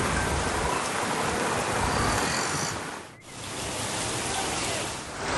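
Heavy rain pours steadily in Kalyan, a dense, loud hiss of downpour that dips briefly near the middle before resuming.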